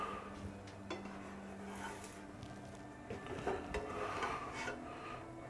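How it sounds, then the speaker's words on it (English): Two spatulas scrape and rub beneath protein food in a pan, giving repeated close rasping strokes with light metallic clinks. "So I just get 2 spatulas under it."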